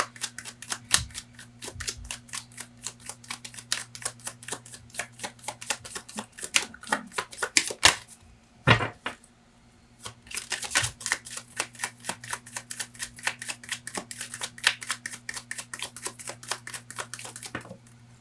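Tarot cards being shuffled and drawn, a rapid riffling patter of card flicks running throughout, close and crisp, with a brief pause midway before the shuffling resumes.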